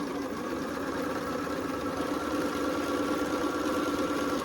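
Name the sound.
sewing machine stitching a quilt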